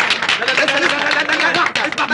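Applause in an Egyptian comedy film, dense, loud clapping from a group, steady throughout with voices mixed in.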